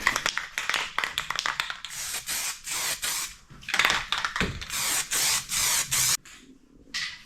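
Short bursts of 3-in-1 gray primer from a spray can applied in a light coat to a part from a 1983 Yamaha IT 175 motorcycle, hissing in repeated pulses with rattles and taps between them.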